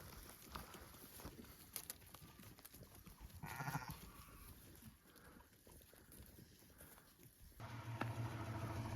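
Newborn lambs and sheep bleat in spring lambing season, short cries scattered over a noisy outdoor background with patter and movement, some calls nearer and louder than others.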